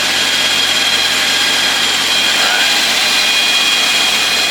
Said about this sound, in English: Engine's humming along nicely.